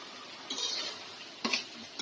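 Raw meat for biryani goes into a hot oiled pot in two brief bursts of sizzling and scraping, close and moderately quiet, with no talking.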